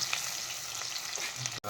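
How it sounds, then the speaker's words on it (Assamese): Green chillies fry in hot oil with a steady, close sizzle and some stirring. It stops briefly near the end. "জলকীয়া ভাজি আছোঁ গৰম তেলত"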